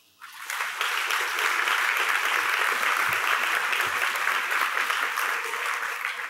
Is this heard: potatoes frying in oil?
no